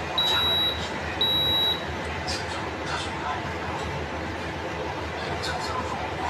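Waffle maker beeping when a mochi waffle is ready: two clear, steady electronic tones, each about half a second long, close by over a quiet background hiss.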